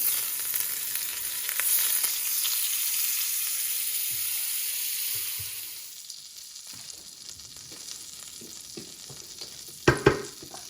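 Butter melting and sizzling on a preheated sizzling plate for crispy Kapampangan-style pork sisig, a steady close hiss that eases off midway, then a sharp brief crackle near the end.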